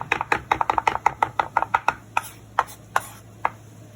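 Knife chopping roasted shallots on a cutting board, a quick run of crisp rhythmic taps that slows to a few spaced strikes, close and alone.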